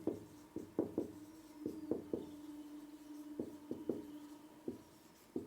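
Writing on a classroom board during a physics lesson, a quiet series of short irregular squeaky strokes and taps, each with a faint tonal squeal, spaced unevenly over several seconds.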